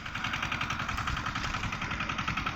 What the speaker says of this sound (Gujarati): આપણું ટ્રેક્ટર પાછું આવી ગયું